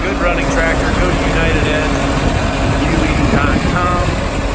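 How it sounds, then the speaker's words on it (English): A 1952 International Farmall Super C tractor engine running steadily, a constant rumbling drone that stays loud and even from start to finish. "Good running tractor."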